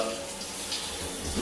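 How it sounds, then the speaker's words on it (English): A shower runs cold, turned all the way up, producing a dense, steady hiss of spraying water, loud and close with no pauses. "Hot water off. Get the water all the way up."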